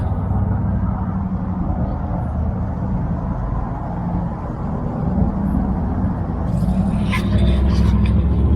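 Cars driving on a frozen lake at Breckenridge, Colorado, a steady close engine rumble with rising revving near the end, someone talking over it.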